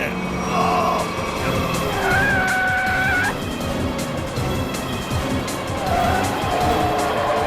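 A runaway bus swerves back and forth, its engine roaring under a loud tyre squeal that rises and holds, with muffled shouting voices mixed into the dramatic scene.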